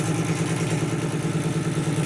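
A 24-inch stump grinder engine runs steadily while cutting a stump, giving a loud, continuous mid-pitched drone with a rough clattering texture and no pauses.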